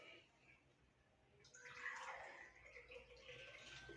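Plain tap water poured into a drinking glass for a water-quality demonstration, a soft splashing gush that starts after a quiet moment and keeps flowing steadily to the end.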